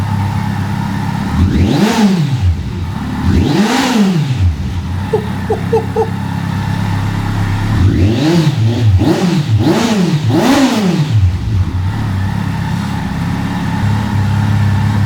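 A Kawasaki Concours 14 motorcycle fitted with a Delkevic exhaust, baffle removed, revs in a few sharp throttle blips over a loud, deep idle, first two separate revs and then a quick cluster of four, close by.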